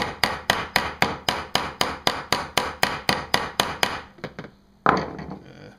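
A hammer striking to set a metal rivet through a PVC machete sheath, about fifteen sharp, evenly spaced close blows, then a few lighter taps and one last hit, with no talking.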